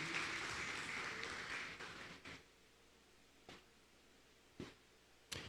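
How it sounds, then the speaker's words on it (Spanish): Congregation applause during a Spanish-language church worship service, a dense wash of clapping that fades away after about two seconds, followed by a quiet room with a few scattered isolated claps. "Dale fuerte el aplauso al Señor"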